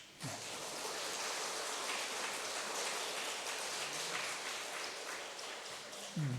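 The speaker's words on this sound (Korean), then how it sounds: "우리 환영의 박수 한번 합시다" A church congregation applauds during a Sunday worship service to welcome back a returning elder, steady dense clapping filling the whole stretch at moderate level, like a wash of rain, with brief murmurs of voices at the edges.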